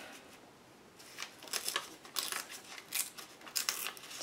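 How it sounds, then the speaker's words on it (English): Paper torn by hand to cut out a printed word, a few short ripping bursts after a quiet start, close and fairly soft. "tear out the word smoking"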